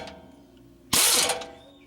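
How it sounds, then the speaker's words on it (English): Air wrench loosening a nut on the rear control arm of a 1989–1998 Suzuki Sidekick or Geo Tracker, a quiet hum followed by one loud, close burst of rattling impact that tapers off. "I was able to get the air wrench up in here"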